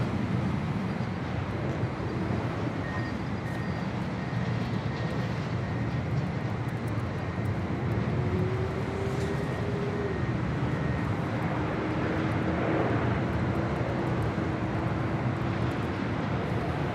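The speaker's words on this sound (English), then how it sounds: "Hawaiian Airlines Flight 63 heading to Lahui. It's an A321 Neo, number 2 for departure here on the north side and 24 left." A Hawaiian Airlines Airbus A321neo jet holds for departure on runway 24 left at Los Angeles International Airport, its engines a continuous broad roar with a faint whine, steady and moderately distant for the whole stretch.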